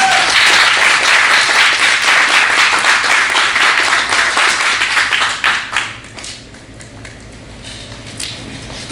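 At a cybersecurity awareness event, an audience claps for a speaker, with dense, lively applause that thins out after about five seconds into sparse claps and room quiet.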